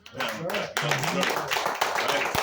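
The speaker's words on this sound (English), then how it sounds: "So give your own self a round of applause" A room of recovery-meeting attendees claps for themselves, a dense close round of hand claps mixed with whoops and voices that carries steadily throughout.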